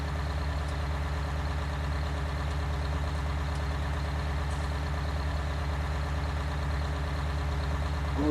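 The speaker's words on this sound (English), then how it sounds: "this is an old tractor" An old tractor engine idles steadily throughout, a continuous low rumble with an even, unbroken throb at a constant moderate level and no voices.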